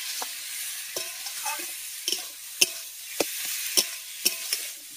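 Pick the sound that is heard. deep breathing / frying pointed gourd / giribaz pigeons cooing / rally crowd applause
frying pointed gourd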